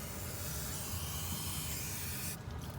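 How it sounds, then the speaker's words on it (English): Penetrating oil is sprayed from an aerosol can onto a tie rod lock nut, a close, continuous hiss that holds steady for a few seconds before cutting off abruptly near the end. "we're gonna spray a little bit of penetrating oil here on this lock nut"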